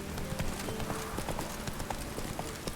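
Horse hooves clip-clop steadily while riding, a quick even rhythm of close hoofbeats running through the whole stretch with light background noise.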